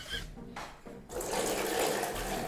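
Water gushes steadily from a household faucet, starting after a brief sputter and running continuously at close range.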